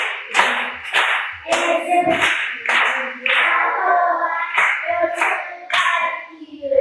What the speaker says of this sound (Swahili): Yes, makofi.